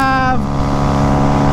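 Honda Grom motorcycle engine droning steadily at high revs on a mountain ride, a sustained harmonic whine with a pitch shift early on, loud and close with constant wind noise.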